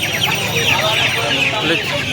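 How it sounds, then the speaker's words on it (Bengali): Egg-laying hens cluck continuously and densely at a busy poultry market, with a rooster crowing faintly and people talking in the background throughout the crowded, noisy scene. "ডিমের জন্য ফেমাস এরা ডিমেরই মুরগি এটা"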